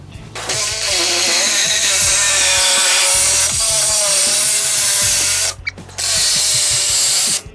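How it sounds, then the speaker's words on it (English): Saw blade cutting steadily through the floor pan of a VW Beetle with the body still on, a loud continuous rasping buzz that pauses briefly near the end before resuming. "I'm just going to continue cutting all the way back up to this point"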